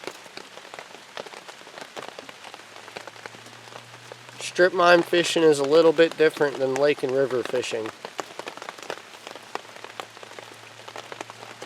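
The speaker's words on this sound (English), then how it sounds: "You guys hear this? This is the kind of rain that separates the boys from the men." Heavy rain patters steadily and densely on surfaces at a strip mine fishing spot during a storm, a constant close crackle of drops that continues while someone talks for a few seconds midway.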